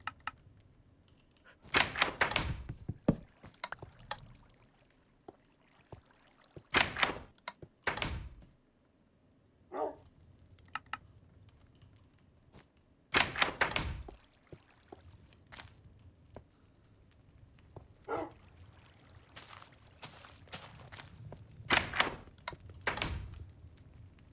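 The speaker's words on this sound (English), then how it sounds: "Oh, we can also make glass doors." Glass doors in the Minecraft video game clunking open and shut, a string of short, sharp knocks and thuds scattered irregularly, some in quick pairs, over a quiet background.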